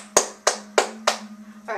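Four sharp claps sound in a steady rhythm from The Legend of Zelda: Twilight Princess, each crisp and close with a short decay, over a steady low game tone.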